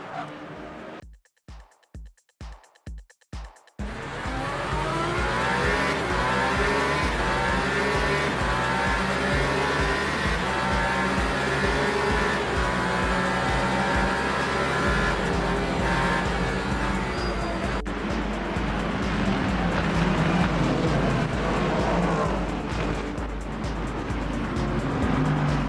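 Race cars in the video game Le Mans Ultimate at the Qatar circuit, including Ferrari hypercars, with a steady loud engine roar from a pack running close together after a few brief clicks at the start.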